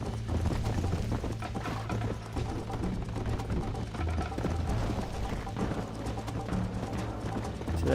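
Horse hooves in the video game Red Dead Redemption, a fast, continuous clip-clop of galloping hoofbeats with a creak of tack, steady and fairly close, with no talk.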